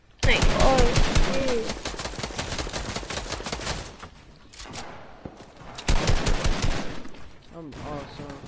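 Rapid gunfire bursts from a PS4 online shooter, loud and dense at the start, easing off, then flaring again in a second burst, with players talking over the shooting.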